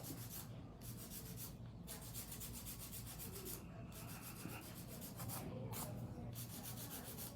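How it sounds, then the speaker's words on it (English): Hand filing of acrylic ombre nails with a clear protective coat, a steady, quiet rasping rub repeating in quick even strokes with brief pauses, close up and without talk. "I'll go through and do some little hand filing, even it out"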